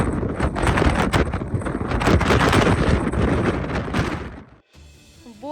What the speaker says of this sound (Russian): Боремся с ветром, чтобы дойти до машины.